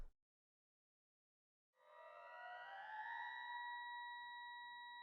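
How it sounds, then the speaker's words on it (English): Alarm sirens wail through hidden speakers in a sci-fi visual novel game, bursting in after a brief silence with a loud, sustained rising electronic tone that holds steady to the end. "the quiet of the room explodes with sirens wailing through hidden speakers"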